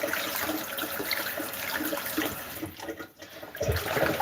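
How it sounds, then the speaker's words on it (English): Water from a kitchen tap runs steadily into a sink while meat is washed before cooking yam, a constant, fairly quiet hiss with small splashes and a brief dip near the end. "So I'm sure the water was making a lot of noise"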